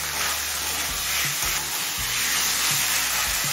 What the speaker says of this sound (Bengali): আলুটা দিয়ে মিডিয়াম ফ্লেমে চিকেনের সাথে আরও 5-6 মিনিট কষিয়ে নিয়েছি।